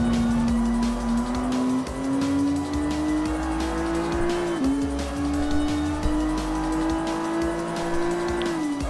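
A Nissan GT-R GT Academy Version races in Gran Turismo Sport, its engine holding a loud, steady high drone that climbs through the gears with a brief dip at each shift, while tyre squeal runs underneath.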